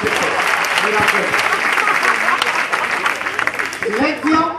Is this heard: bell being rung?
no